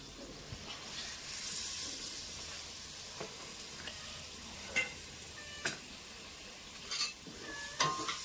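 Food frying in a pan for a home-cooked chicken meal, a steady close hiss of sizzling broken by scattered sharp clinks and scrapes of a utensil against the pan.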